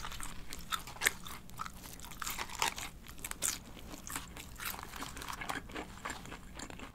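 Seasoned McDonald's curly fries are crunched by someone eating up close, with irregular crisp bites and chewing spread throughout.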